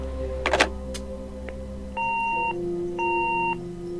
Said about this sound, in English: Ah, the age of the answering machine.